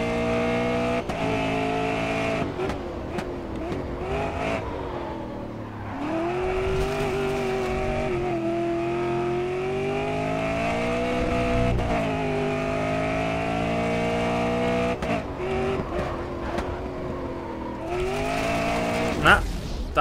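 A race car in the racing game GRID Autosport sweeps through a long curve, its engine note rising and falling through gear changes with occasional tire noise, while someone talks over it throughout.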